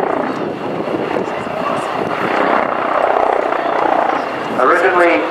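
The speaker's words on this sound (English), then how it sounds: "A twin engine helicopter, a pair of Allison 250 turbo shafts." An MBB Bo 105 helicopter's twin Allison 250 turboshaft engines and rotors roar steadily and loudly nearby, with a brief rise in intensity near the end.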